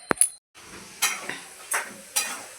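Chicken cooking in a home kitchen pan, stirred with a utensil: a few sharp clinks at the start, then a low sizzle broken by four distinct scraping strokes spaced about half a second apart.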